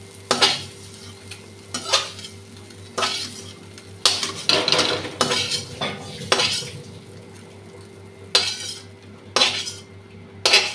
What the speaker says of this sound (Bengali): তুলে নিচ্ছি চালটা।